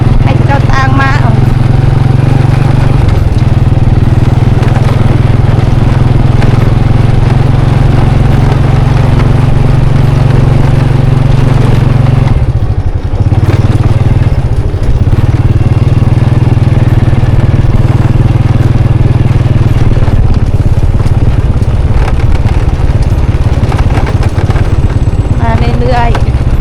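Loud, close motorcycle engine rumbling steadily throughout on a ride at Phu Ya Kha, with a brief dip in the middle and people talking over it.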